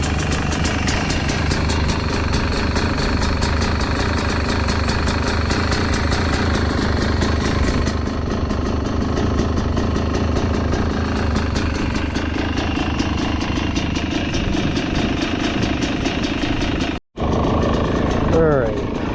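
A 2025 Fantic XE300 dirt bike engine running at a steady idle, loud and close, with a continuous throb throughout and a person talking over it.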